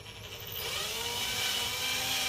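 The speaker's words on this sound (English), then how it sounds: "What I want to do is get the drill bit right in the middle." A power drill bores into the body of a Gibson Les Paul guitar to cut a rear cavity, giving a close, steady whirring grind that rises slightly in intensity and holds without pause.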